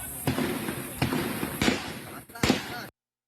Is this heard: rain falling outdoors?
no